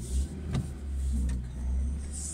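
Another car driving past a parked car on a road, a low engine rumble that swells and fades over a couple of seconds, fairly close, with no talk.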